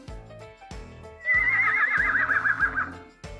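A horse whinnies loudly in a shaky, quavering neigh that rises and holds for about two seconds, preceded and followed by a steady rhythmic beat of background music.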